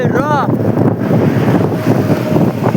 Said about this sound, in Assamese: চাকচোন কেনেকৈ বতাহ দি আছে